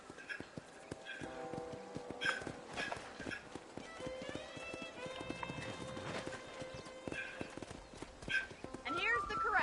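Horse hooves clip-clop steadily across a ranch in the video game Red Dead Redemption, with an occasional whinny, continuing under someone talking over the game.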